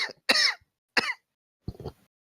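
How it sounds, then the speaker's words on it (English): Several short, sharp coughs and throat-clearing bursts come in quick succession, close and fairly quiet, with brief silences between them. "we fine with the cough?"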